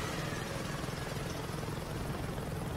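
An enemy plane in Saints Row 2 drones steadily overhead, a continuous low rotor-like engine roar holding at an even level with no talk over it.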